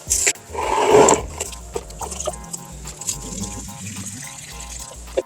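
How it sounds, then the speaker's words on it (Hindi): Water is poured from close by onto the dry soil of a potted plant in winter, a brief gushing splash followed by soft trickling and scattered small knocks. "अब हम इस पे पानी देंगे।"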